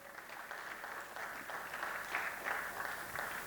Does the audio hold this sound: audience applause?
yes